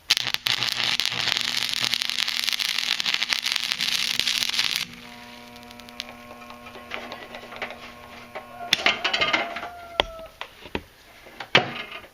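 Campbell Hausfeld WS0990 115-volt stick welder arc welding with a thick-core rod: a loud steady crackling buzz for about five seconds stops abruptly, then quieter hum, clanks and scattered taps follow.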